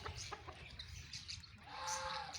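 Rooster on a poultry farm, a breeder bird raised on site among fancy breeds such as Brahma, gives a few clucks and calls amid farmyard bird chatter, moderately near and fairly faint, with no talk.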